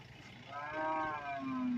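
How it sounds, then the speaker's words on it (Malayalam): At a buffalo and cattle market, a cow lets out a long drawn-out moo that rises and then drops low. The call sits over a faint background hum of the market. "കറവയുള്ള പശുക്കളൊക്കെ വന്നിട്ടുണ്ട്"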